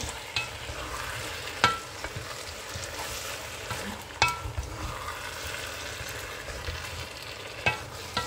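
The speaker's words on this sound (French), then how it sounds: "Il faut remuer comme ça comme moi je fais." A spoon stirs matembele with smoked fish in a pot over a steady frying sizzle, with occasional sharp scrapes and clinks against the pot.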